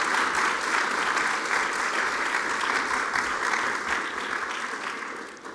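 Sustained applause from a university lecture audience in Sherbrooke after a student presentation, a dense steady clapping that fades slightly toward the end with no talk over it.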